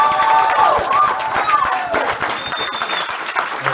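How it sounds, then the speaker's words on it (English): Wedding guests clap in a lively round of applause at a Wedgewood wedding venue in Sierra La Verne, California, with scattered cheers and a loud crowd that fills the whole clip. "Give them a round of applause, ladies and"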